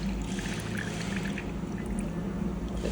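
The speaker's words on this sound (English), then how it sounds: "we'll pour that in to the empty container" Milk-line detergent for a Gaggia LB machine is poured into an empty container, a steady liquid pour and trickle over a constant low machine hum, no voices.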